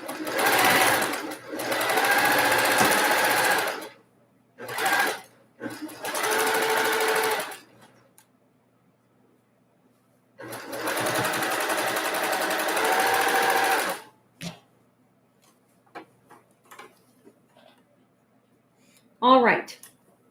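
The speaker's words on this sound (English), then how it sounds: "Now I'm ready to sew." A domestic sewing machine stitches quarter-inch quilting seams for a sampler block in a series of steady whirring bursts, each a few seconds long, with quiet pauses between and a few faint clicks near the end.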